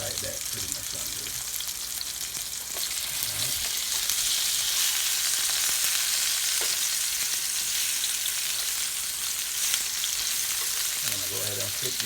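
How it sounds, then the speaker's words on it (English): Lamb chops searing in a hot pan, a steady, loud, close sizzle that swells as the meat is turned, with brief clatters of handling and someone speaking over it at times. "just putting a little sear on them real quick"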